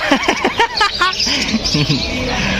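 Caged birds chirp in quick, high trills at the Malabon pet market, close and lively at first, with people talking over and around them.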